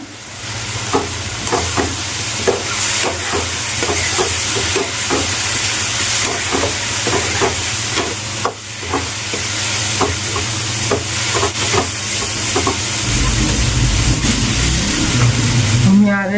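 Soaked potatoes go into spiced oil in a pan for a fish egg curry, giving a loud close sizzle with repeated stirring scrapes, then a stronger steamy hiss near the end.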